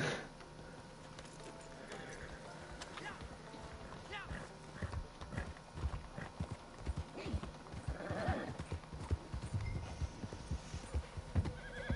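In a video game, a horse's hooves clop in irregular bursts and it whinnies, heard faintly beneath a player talking over a constant low hum.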